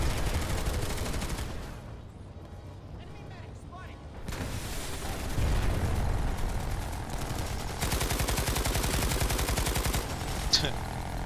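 Enemy gunfire in Planetside 2, steady automatic bursts with a heavy, dense texture, loud and sustained for most of the clip, alongside voices.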